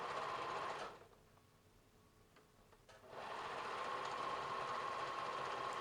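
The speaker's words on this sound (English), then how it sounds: "So now we're locking our stitches" A sewing machine stitches a jogger waistband, its steady close-up whir running for about a second, stopping for a couple of seconds, then resuming and continuing to the end. No one speaks.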